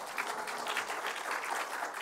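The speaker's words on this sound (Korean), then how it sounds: "박수 한번 쳐줘" Audience applause at a lively Korean talk, a steady wash of many hands clapping at moderate distance, fairly quiet and even, with no talk over it.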